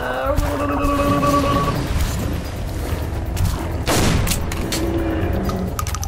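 Gunfire in the video game Metro Last Light: loud, dense bursts of shots and booms run through the whole stretch over a steady game soundscape.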